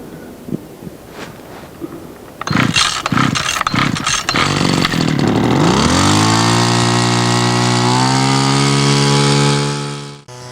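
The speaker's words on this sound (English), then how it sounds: "There's a little 2-cycle engine." Small 2-cycle engine powering a sap transfer pump at a sugar house; a few knocks, then a rough pull-start sputter before it catches and revs up into a loud, steady high-pitched drone, cutting off at the end.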